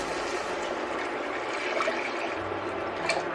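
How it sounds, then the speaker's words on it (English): Three cups of water poured into a cooking pot of fragrant vegetables, making a steady, close rushing splash that runs without break and swells slightly near the end, with no talk. "now we are going to add 3 cups of water into here"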